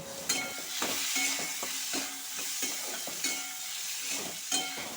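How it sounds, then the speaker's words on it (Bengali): Chopped tomato sizzles and fries in a pan while a utensil stirs it, giving repeated scraping strokes over a steady hiss, close and fairly quiet. "টমেটো দিয়ে দেওয়ার পর এটা ভালো করে নাড়তে থাকলাম"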